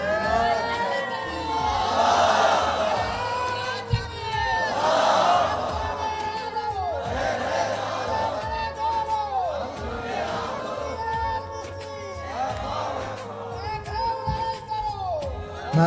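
A large crowd at a Bangla religious gathering shouts a takbir chant in repeated call-and-response waves, several loud collective roars rising and falling at a steady rhythm.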